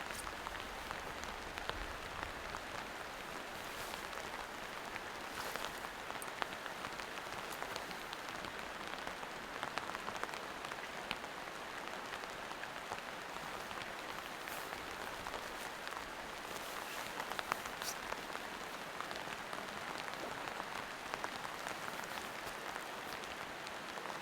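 Steady rain patters on the fabric of a large inflatable air-frame tent at a campsite, a dense continuous hiss with scattered heavier drops and no talking.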